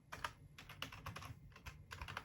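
A password being typed on a computer keyboard: a quick, close run of light key clicks in uneven rhythm, faint and without voices.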